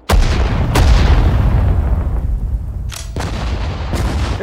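Cannons fire in the World War II strategy game Sudden Strike 4, with deep, loud artillery blasts at irregular intervals over a continuous low battlefield rumble.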